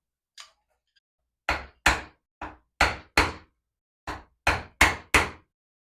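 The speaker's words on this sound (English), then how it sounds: "we begin the painstaking part of carving out with chisels for a nice clean edge around the whole outline" Chisels are struck with a mallet to carve a wooden print block, giving sharp, close wooden knocks. One tap comes first, then two quick groups of several knocks separated by a short pause.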